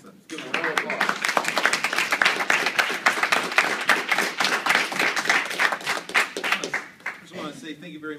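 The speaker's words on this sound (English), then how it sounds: "Let's give them a round of applause." A classroom audience at a civics program session applauds after a student presentation. Distinct individual claps build quickly into steady, fairly close clapping, then taper off near the end.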